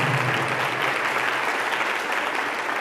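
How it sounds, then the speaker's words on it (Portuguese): Sustained applause from a large crowd at a church service, loud and even throughout, with a faint murmur of voices mixed in at the start. "Vamos aplaudir o Espírito Santo."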